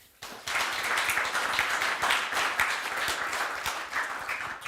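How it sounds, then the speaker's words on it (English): A conference audience at a systemic risk analytics meeting bursts into sustained, dense applause that starts suddenly and stays loud and even for several seconds, with no one speaking over it. "let's give a big applause to Louis."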